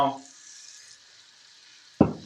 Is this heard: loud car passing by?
no